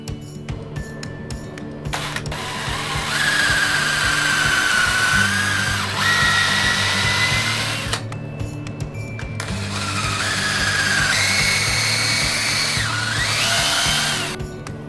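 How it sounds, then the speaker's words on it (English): A power drill pre-drilling a wooden floating shelf into wall studs: two long whining bursts that ramp up and hold for several seconds each, separated by a short pause with clicks and handling. "We're gonna pre-drill it and get it mounted up on the wall."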